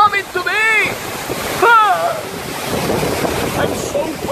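Water rushes and splashes near a waterfall in Bali, a broad, noisy wash with gusty roaring bursts, while a person shrieks and exclaims loudly over it in the first two seconds.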